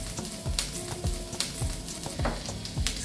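Ají peppers fry in a pan with a dense, close sizzle, punctuated by regular stirring scrapes about every half second, with no voices.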